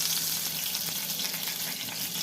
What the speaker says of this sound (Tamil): கடுகு பொரிஞ்சிச்சுன்னா